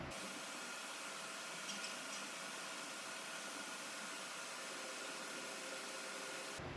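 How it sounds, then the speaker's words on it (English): Fans on a GPU mining rig spin steadily, giving a loud, even, airy whoosh that holds without change from start to finish. "The cards are spinning, starting to mine."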